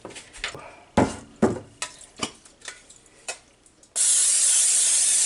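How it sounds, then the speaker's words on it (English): Cooking spray hisses into a casserole dish in one long steady burst near the end, preceded by a series of sharp clicks and taps from handling the can, close and loud. "Spray the bottom and spray the pan of your dish."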